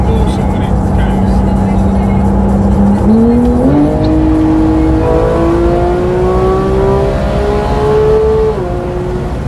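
A naturally aspirated Porsche 911 GT3 engine revs hard toward the red line from inside the car, its pitch climbing in stepped gear-by-gear sweeps, loud and sustained throughout.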